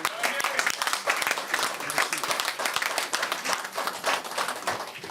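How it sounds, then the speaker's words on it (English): An indoor audience at a Tamil Heritage Month community event in Ottawa gives a sustained, dense round of applause, many hands clapping loudly and evenly throughout without pause. "he's really worth a round of applause again, Gary and Alexander."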